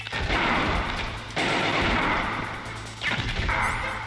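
Heavy gunfire in Metal Gear Solid, loud sustained bursts of shots and explosive blasts filling the whole span, broken into three long volleys with brief gaps between them, no one speaking.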